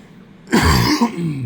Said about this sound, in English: Pardon the small cough.